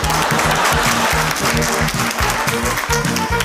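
Sustained audience applause at a classroom-style gathering, dense steady clapping from many hands filling the whole stretch at close range, with rhythmic low thumps underneath and no voices rising above it.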